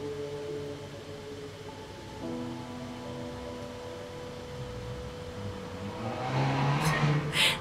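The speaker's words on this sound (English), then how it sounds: "Sorry if you can hear all the cars." Traffic from a busy street in Mexico hums steadily in the background, a broadband car wash that swells louder toward the end as a vehicle passes close, with no talk over it.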